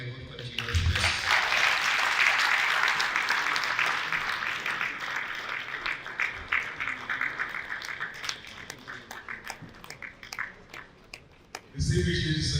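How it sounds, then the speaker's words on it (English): Audience applause fills a hall after a summit opening declaration at a mining industry event in Nigeria, a dense sustained clatter of many hands that thins and fades toward the end before a voice briefly resumes. "please can we give His Excellency another round of applause"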